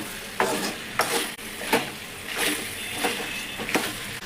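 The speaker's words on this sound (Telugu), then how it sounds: "సో ఇప్పుడు ఇక దీన్ని మంచిగా కలుపుకుందాం." Chicken curry with ground spice powder is stirred in a pan, a spoon scraping in steady strokes about every 0.7 seconds over a soft sizzle, close and alone with no talk.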